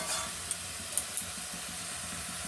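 Spice paste of red chilli powder and salt fries in oil for a Bengali tilapia fish curry, giving a steady close sizzle and hiss with a few faint clinks of stirring and no talk.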